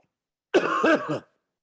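A single rough, close cough lasting under a second, alone against silence.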